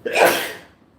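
A single sharp sneeze bursts out close by, rising quickly and trailing off within about half a second, alone and without any talk.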